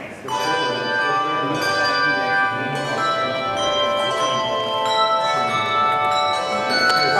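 Church handbell choir ringing sustained, shimmering tones that overlap and decay throughout, loud and close, with a few struck accents and no talking.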